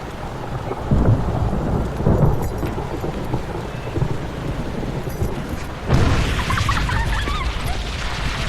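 Heavy rain pours steadily while thunder rumbles and booms, with a loud crack near the end, in a monsoon night scene from a Hindi film.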